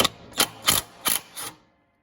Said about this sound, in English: That should be a 13mm socket. And I'm gonna try to just loosen it up, not take it all the way off.